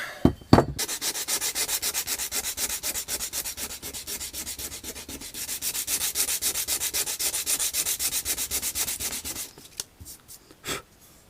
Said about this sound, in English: sanding the handle